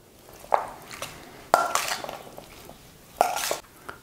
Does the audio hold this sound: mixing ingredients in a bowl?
yes